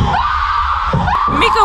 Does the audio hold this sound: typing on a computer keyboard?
no